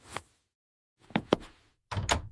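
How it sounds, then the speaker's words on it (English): A door is handled and opened nearby: a soft knock or latch click, then a pair of sharper clacks and a final rattling thunk, each separated by quiet. "Open the door."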